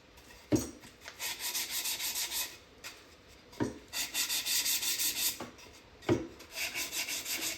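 File rasping a bevel onto the edges of pallet wood, three long rubbing strokes, each opening with a soft knock, close and fairly quiet with no talk.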